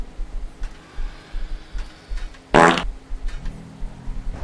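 Fart sound effect in a horror video game, one loud brassy blast lasting about a quarter second, standing out over a low rhythmic mechanical thumping from the game.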